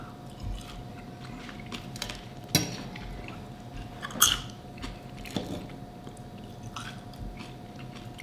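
Close-up biting and chewing of very lean short rib with a crunchy bite: a few sharp crunches stand out over steady, soft mastication, and nobody talks.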